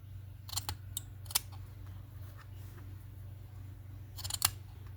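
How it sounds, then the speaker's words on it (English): Scissors snip through paper craft strips, sharp crisp cuts close up in small clusters near the start and again near the end, over a low steady background hum. "Now I'm going to cut my strips in half"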